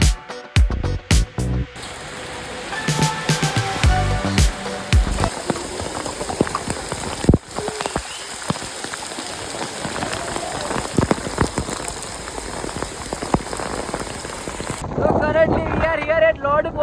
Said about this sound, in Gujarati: ભયંકર પવન ચાલી રહ્યો છે